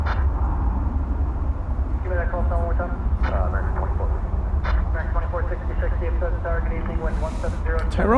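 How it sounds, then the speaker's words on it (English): A British Airways Airbus A350-1000 jet at DFW Airport rumbles steadily in the background while someone talks over it almost continuously. "It should be, I believe, the British Airways A350 1000 Speedbird."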